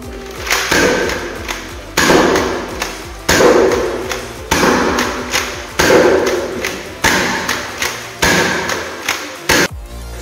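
Zuru X-Shot Turbo Fire toy blaster firing in slam-fire mode, a rapid series of loud, sharp plastic thuds and clacks repeating roughly every second, close and without talk.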